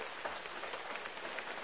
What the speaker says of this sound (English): So it's raining right now and it's quite dark.